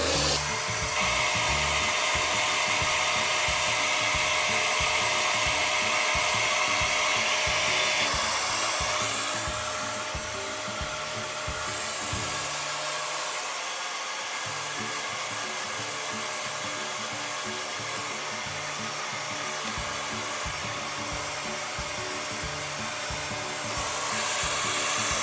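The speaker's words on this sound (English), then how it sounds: "So I literally just take a section and lift it up and dry it." A hair dryer blows on hair in a continuous close, loud roar, its airflow shifting in pitch and strength partway through as sections are lifted and dried, with no talking.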